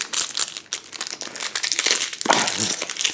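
A Star Wars Epic booster pack is torn open, with close, loud crinkling and crumpling of the foil wrapper in dense bursts, swelling toward the end.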